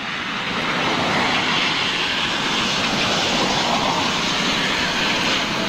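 A jet airliner passes, producing a loud, dense roar that swells in the first second and then holds steady and close.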